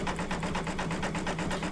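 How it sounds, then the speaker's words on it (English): Embroidery sewing machine stitching an in-the-hoop May door hanger design, a steady, rapid mechanical chatter of needle strokes that runs evenly throughout, close and fairly loud with no talking. "Cindy Revan, I'm actually sewing along with you."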